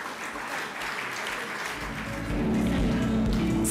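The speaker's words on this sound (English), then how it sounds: "Give them a round of applause, ladies and gentlemen." Audience applause at the Maritime SheEO Awards 2024 ceremony as a winning team goes up, a steady patter of clapping that swells noticeably louder partway through and continues without pause.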